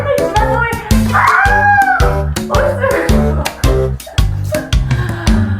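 A small dog gives a rapid series of loud, close yips and barks, with whiny, meow-like yelps mixed in. The excited calls repeat almost without a break for several seconds.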